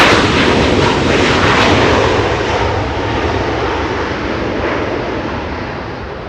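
Air Canada Boeing 737 MAX 8 jet arriving at Los Angeles International Airport from Vancouver, a loud broad engine roar close by that fades gradually over a few seconds, with no talking.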